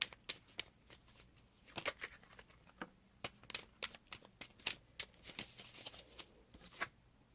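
Tarot cards being shuffled and drawn from a deck, a quiet run of soft, crisp riffling snaps and slides in irregular bursts, close up and faint with no talk.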